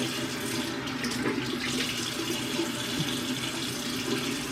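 Tap water runs steadily into a sink while someone wets their face, a continuous close splashing hiss with no pauses.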